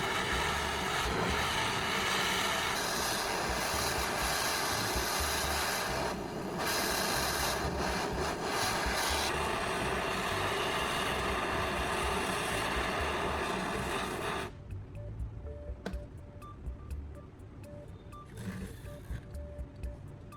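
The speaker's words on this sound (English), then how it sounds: "I'm heating up the blade of a utility knife with a blowtorch." A blowtorch heats a utility knife blade with a loud, steady roaring hiss for most of the stretch, then cuts out, leaving a quieter background with scattered light clicks and handling noises.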